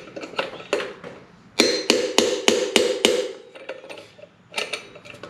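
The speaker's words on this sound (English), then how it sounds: "I'm just gonna pound it until it comes out" An 18 mm socket hammered against motorcycle wheel bearings on a 2023 BMW S1000RR: sharp metallic blows in uneven bursts, a fast run of about six loud strikes in the middle, then a few lighter taps.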